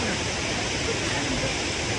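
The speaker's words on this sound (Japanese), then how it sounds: "千段の滝はですね、高さ70メートル、幅3から4メートルだって。" Sendan waterfall in Gokanosho, Kumamoto, about 70 metres high, gives a continuous, dense roar of falling water that stays loud and unchanging throughout, with no speech.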